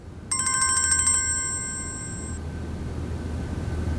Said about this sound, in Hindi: सनम का फोन।